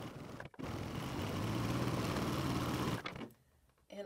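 A PFAFF admire air 7000 coverlock machine sews a three-thread rolled edge, stopping briefly, then running in one fast, steady, close mechanical whir for about two and a half seconds before halting.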